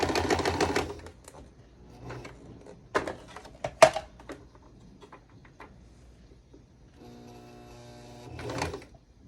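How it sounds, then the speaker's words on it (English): A sewing machine with its needle striking something, giving a short burst of dense mechanical clatter at the start, then scattered knocks and clicks and a longer run of rattling stitching near the end, close and fairly loud. "So that needle's got to be hitting something."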